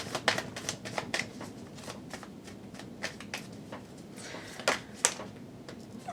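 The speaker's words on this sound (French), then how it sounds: "On va recouvrir quelques cartes." Tarot cards are shuffled up close in a quiet room, giving a run of crisp riffling and soft tapping bursts at an uneven rhythm, with no talking.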